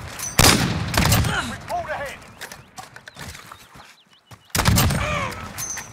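Pistol gunfire in a video game, sharp broadband cracks standing out loud and close, with a couple of separate bursts and a voice talking between them.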